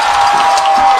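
A crowd of students roars and cheers as a game ends, loud and dense with a sustained wash of noise and scattered shouts.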